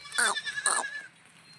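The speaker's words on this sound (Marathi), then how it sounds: "आमच्या शेळ्या पण आल्यात चरून, त्या पण बांधायच्यात" Goats back from grazing give two short, nasal bleats close by in a quiet evening farmyard, one after the other, with soft background noise.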